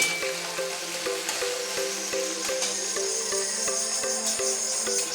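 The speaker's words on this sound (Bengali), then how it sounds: "দিয়ে কিছুক্ষণ নাড়াচাড়া করে ভেজে নিব" Sautéed onions sizzle steadily in a hot pan, a close, continuous frying hiss broken by regular scraping taps as they are stirred, with no talk.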